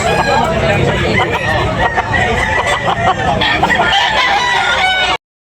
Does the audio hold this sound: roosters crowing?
yes